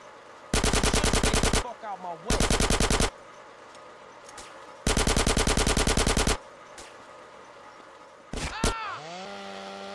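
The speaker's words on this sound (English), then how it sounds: "Who's shooting me? You are shooting me." Rapid automatic gunfire from the video game GTA San Andreas rattles in three long loud bursts, separated by short pauses and brief game sound effects, ending with a sharp shot or two and a rising electronic tone.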